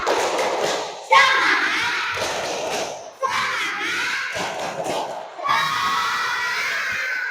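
Third-grade primary schoolchildren in an Indonesian classroom chant and clap together in the tepuk semangat cheer, several loud bursts of young voices shouting in unison with clap thuds, close and filling the room.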